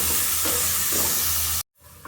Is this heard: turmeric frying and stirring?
yes